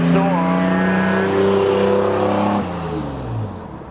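A 1984 Ford Bronco II, freshly restored, drives up with a loud, close engine drone that holds steady, then eases off as it slows, under talk.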